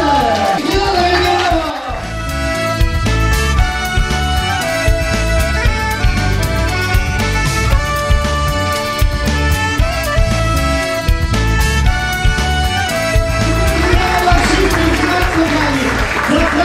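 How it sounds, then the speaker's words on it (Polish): Applause from the audience at a WOŚP charity auction finale in Różan, loud and sustained for about fifteen seconds, layered with loud music and crowd noise. "Sprzedane, sprzedane, wielkie brawa!"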